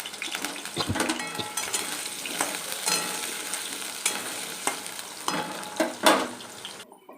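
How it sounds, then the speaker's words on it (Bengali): Potatoes sizzle in hot oil in a pan, a busy, close frying crackle broken by stirring scrapes and light metallic clinks of a spoon against the pan. "এবার আমি আলুগুলোকে ভেজে নেব।"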